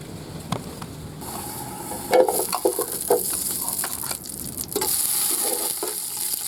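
Grated carrots cook in desi ghee in a handi for gajrela, giving a steady close sizzle with scraping stirs and occasional louder frying surges throughout.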